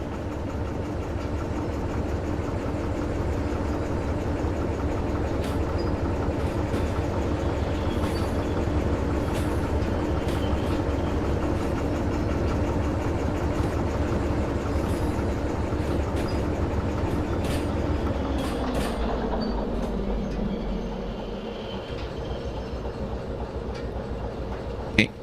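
Steady low rumble and drone of a running locomotive in the train simulator Derail Valley, continuous and fairly loud, easing slightly lower in pitch near the end as it slows, with faint clicks over the top.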